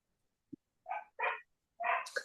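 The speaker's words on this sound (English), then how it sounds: "Dog." A dog barks several times in a meeting room just before a municipal recreation committee meeting is called to order: a short thump, then three fairly loud, rough bursts close by, the last trailing into a higher yelp.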